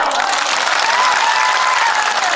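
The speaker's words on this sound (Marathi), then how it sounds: "टाळ्या वाजा" Dense crowd applause at an OBC community rally, continuous and loud from start to finish with a faint voice carrying over the clapping.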